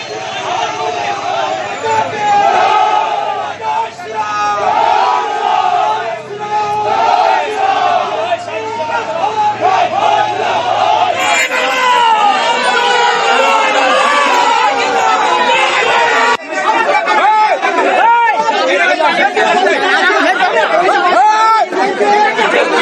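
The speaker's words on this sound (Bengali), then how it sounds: "একদিকে বিজেপির স্লোগান, অন্যদিকে তৃণমূলের স্লোগান। স্লোগান পাল্টা স্লোগানে উত্তপ্ত পরিস্থিতি।" Rival crowds of BJP and Trinamool supporters shout competing political slogans at a cooperative vote count in Nandigram, a loud, dense, continuous roar of overlapping chanting voices and chatter that swells and surges throughout.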